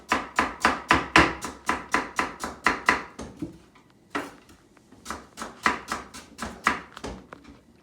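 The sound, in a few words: knife cutting rhubarb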